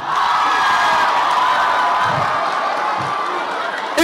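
A comedy audience at a stand-up performance keeps up a loud, continuous roar of cheering and shouting, with scattered claps buried in the steady crowd noise throughout.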